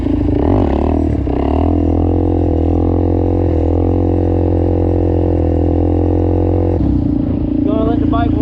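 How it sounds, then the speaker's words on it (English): Suzuki DRZ400SM motorcycle fitted with an aftermarket exhaust, idling loudly up close as it warms up, a steady thumping single-cylinder drone with a brief blip of throttle near the end. "Gonna let the bike warm up a little bit first"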